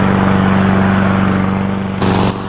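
Close by, an inexpensive Chinese-made remote-controlled lawn mower runs with a loud, steady small-engine buzz and a strong pulsing tone, dipping briefly as it moves.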